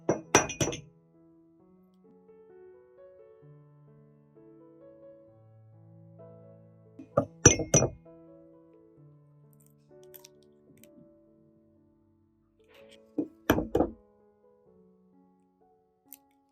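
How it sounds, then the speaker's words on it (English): Three sharp cracks of eggs being broken against hot bowls, spaced several seconds apart, each followed by a soft drop into the bowl; close and quiet with near silence between. "remove them and crack an egg into each bowl"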